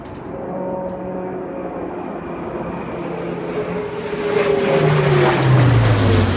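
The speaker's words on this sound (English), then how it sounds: "This was an RAF Atlas A400M from RAF Bryce Norton to a routine training sortie" An RAF Atlas A400M military transport roars low overhead, a loud, steady propeller and engine drone that swells as it passes, with a falling pitch as it goes by.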